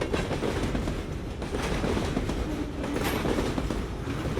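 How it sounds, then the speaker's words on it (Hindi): Steady rumbling clatter of Pakistan Railways train wheels rolling over rail joints as the train gathers speed, loud and continuous, with a rhythmic clickety-clack and no voices. "ट्रेन भी रफ्तार पकड़ने लगती है कि एक दगड़ दगड़ दगड़ दगड़ की आवाज़ ताल पकड़ने लगती है"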